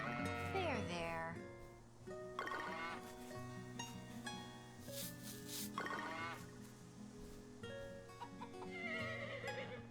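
A horse whinnies in a Story of Seasons: Grand Bazaar farming video game, its short, bright neighs recurring through the clip amid other animal calls and game music.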